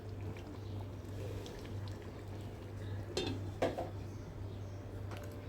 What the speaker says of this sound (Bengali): আবারও একটু নেড়ে নিচ্ছি, কারণ না হলে নিচে পোড়া লেগে যাবে।